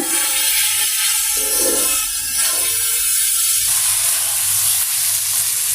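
Meat hits a pan of fried spice masala with potatoes and sizzles steadily and loudly, a dense continuous frying hiss with occasional stirring.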